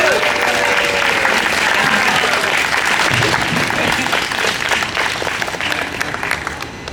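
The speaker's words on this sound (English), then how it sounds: "And please give her a round of applause." An outdoor protest crowd breaks into loud, close applause for a speaker, dense clapping that holds strong and then gradually thins and tapers off toward the end.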